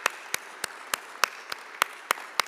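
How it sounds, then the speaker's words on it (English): A single person claps slowly and evenly, about eight sharp claps in a quiet room at a college recognition ceremony honoring donors. "That certainly deserves an applause as well."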